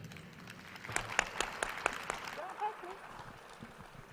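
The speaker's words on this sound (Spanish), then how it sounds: "recibir con un fuerte aplauso a la jefa de suscripción Latinoamérica de RGA" A conference audience applauds to welcome a speaker on stage, giving scattered claps that rise into a short burst and then fade, while people talk over the clapping.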